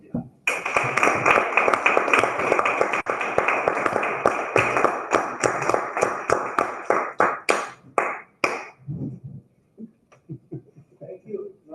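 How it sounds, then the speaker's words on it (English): An audience at a formal evaluation meeting gives a hearty round of applause, dense clapping for about eight seconds that thins into a few scattered, fading claps before a voice begins quietly. "with a round of applause"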